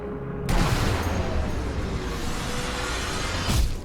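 A dense, continuous barrage of gunfire in the video game Sniper Elite V2, with a rumbling low end, sustained for several seconds, then a sharper burst near the end.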